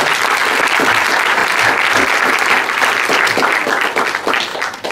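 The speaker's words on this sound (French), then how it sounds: "on peut l'applaudir." An audience at a high school speech contest final applauds a jury member with loud, sustained clapping that fills the room, tapering slightly at the end.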